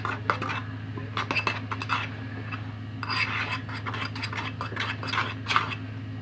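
A spoon scrapes and stirs glue, shaving cream and food coloring in a bowl for fluffy slime, with repeated wet clicking and scraping strokes over a steady low hum.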